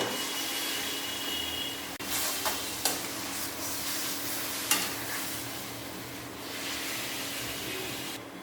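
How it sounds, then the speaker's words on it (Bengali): Chicken pieces frying with softened onions in a pan for a healthy Indian chicken stew, a steady close sizzle with sharp clatters and stirring scrapes as the pieces go in, then even hissing. "পেঁয়াজটা নরম হয়ে গেছে, এবার আমি চিকেনগুলো দিয়ে দেব।"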